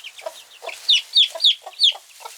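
A chick chirps loudly and repeatedly, sharp high peeps coming in a quick, insistent series, close up with no talking.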